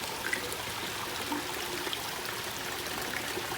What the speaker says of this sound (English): and it's connected via a waterfall.